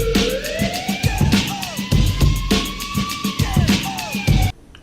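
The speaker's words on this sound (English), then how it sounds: "Sirens in the background." A street siren wails in repeated rising and falling sweeps, fairly loud and continuous, with sharp clicking ticks pulsing through it until it cuts off abruptly near the end.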